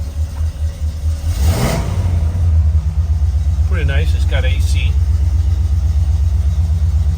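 A 1970 Pontiac LeMans fitted with an alarm: the engine idles with a deep steady rumble and swells briefly as it is revved. A person talks over it.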